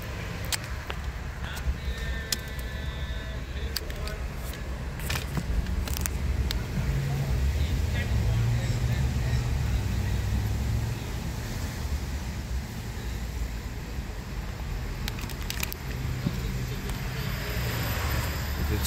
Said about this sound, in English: It's the most traffic right here.